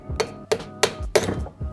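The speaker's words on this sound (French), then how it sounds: "il nous suffit de taper de l'autre côté de l'axe principal de la crémaillère là pour le faire sortir par ce côté" Sharp metallic hammer blows on a screwdriver driving the shaft out of a BMW E30 steering rack: four distinct close, ringing strikes at a steady, unhurried pace with brief clinks between.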